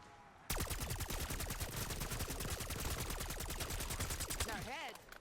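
Rapid automatic gunfire from Black Ops 6 Zombies, aimed at zombies, bursts in after a brief lull and continues as a sustained, loud stream of shots for several seconds, then cuts off.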